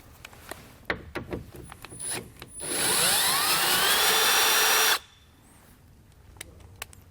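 A power tool with a 10mm socket spins out a mirror bolt on a 2006 Dodge during a towing mirror install, a loud two-second whine after a few clicks and taps, then quiet handling noises.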